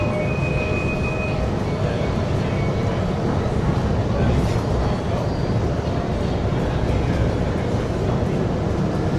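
A Kuala Lumpur monorail train runs along its elevated track, a steady broad rumble and hiss filling the whole stretch with a faint brief squeal early on and no clear voices.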